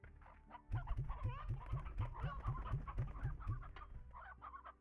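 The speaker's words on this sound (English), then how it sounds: "Look at all the chickens we have." Chickens in the video game Slime Rancher cluck in a quick, rhythmic burst of low clucks with higher chatter on top, close and fairly quiet, with no talking.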